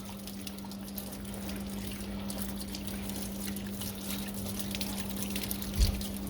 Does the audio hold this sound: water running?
yes